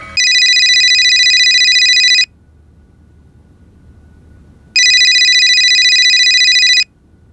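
A telephone rings loudly in two long electronic bursts separated by a brief quiet pause, with no voices over it.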